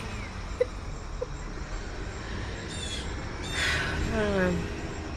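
Loud birds calling from a tree far across the street, with a few short squawks and a brief descending cry near the end, faint and distant over steady outdoor background noise.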